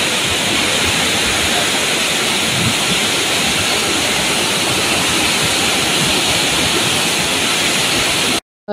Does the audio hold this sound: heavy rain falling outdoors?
yes